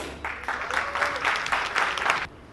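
Brief burst of audience clapping at a ladies' conference, moderately loud for about two seconds with uneven swells, then cutting off abruptly.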